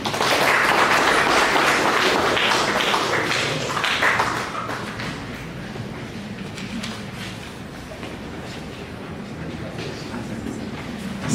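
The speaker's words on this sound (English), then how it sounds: "A big applause for you" An audience at a stakeholders meeting applauds after a talk, with dense clapping for about four seconds that then thins into a quieter, scattered patter over the remaining seconds.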